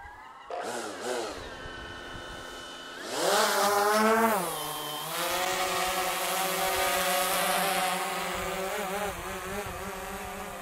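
DJI Phantom drone spinning up and lifting off over a lake, a steady close buzzing whine that rises sharply in pitch about three seconds in and then holds a loud, even drone tone.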